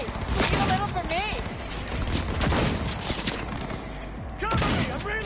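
Gunfire in Cyberpunk 2077 rattles in repeated bursts of sharp shots, loud and close, mixed with game effects while people talk over the shooting.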